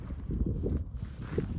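Wind blowing outdoors in Canada beside a fence built from old bicycles, a steady low buffeting rumble across the microphone with small gusty swells and no clear voices.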